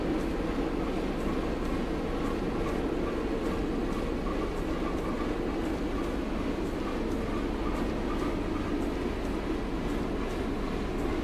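A Class 101 diesel multiple unit runs between Manchester and Liverpool, its engine droning steadily and loudly from inside. Wheels click over rail joints in a regular rhythm that continues unbroken throughout.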